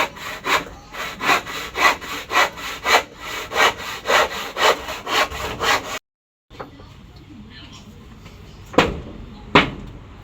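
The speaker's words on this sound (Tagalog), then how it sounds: "Ang ginagawa naman po niya ngayon ay naglalagari po siya na yung tabla po na ididingding po diyan po sa baba." A handsaw cuts through a wooden plank in steady, rhythmic back-and-forth strokes, loud and close. After a short pause come quieter scraping and a couple of sharp knocks.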